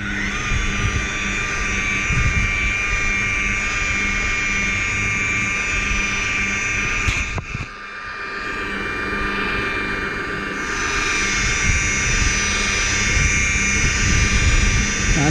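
A polishing machine buffs the hull of a cruising sailboat at medium speed just under 1500 rpm, giving a loud, steady high whine and hum with a brief dip in pitch partway through, close and continuous.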